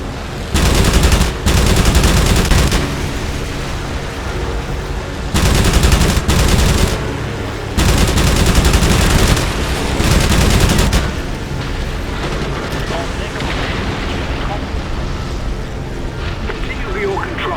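Aircraft machine guns in the Wings of Prey flight game fire in several long, loud rattling bursts against a constant engine drone, with pauses between the bursts.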